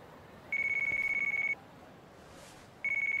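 A phone rings in the video game Yakuza: Like a Dragon, giving two bursts of an electronic trill separated by a pause. It is fairly quiet and heard alone, with no voices.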